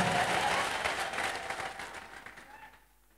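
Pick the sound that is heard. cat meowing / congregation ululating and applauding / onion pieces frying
congregation ululating and applauding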